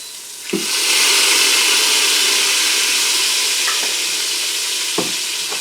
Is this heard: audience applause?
no